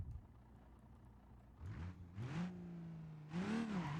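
A car engine in the BeamNG driving game, from a remake of a Cleetus McFarland Cummins-powered Galaxie, idling low then revving up in rising surges, with a sustained tone held between revs.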